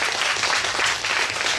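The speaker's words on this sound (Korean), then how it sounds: "자 우리 보령이 품바한테 다시 한번 박수 한번 쳐주시고" A crowd claps for Boryeong Pumba, a performer of the traditional Korean pumba beggar-entertainer show, in a short, loud, dense burst of applause.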